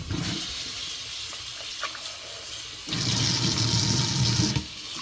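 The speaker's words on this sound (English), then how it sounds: "Strain off the water from my saltfish." Water is poured off soaked saltfish into a sink while cooking a Jamaican callaloo and dumpling meal, a steady close splashing rush that swells louder in the second half, with no voices.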